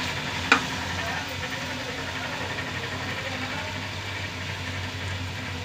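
Curry base with turmeric stir-frying in oil, a steady low sizzle with one sharp clatter near the start, close by, with no talking.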